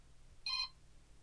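A brief electronic ringtone preview chimes from a Samsung Nexus phone, a single short tonal burst lasting a fraction of a second over a quiet background hum.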